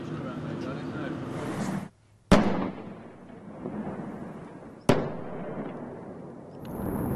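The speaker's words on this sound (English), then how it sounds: "Rescuers set off explosives to make holes in the hull so as to get inside." Rescue explosive charges blasting holes in a capsized cruise ship's hull off Giglio, two sharp booming blasts a few seconds apart, each followed by a decaying rumble over a steady background.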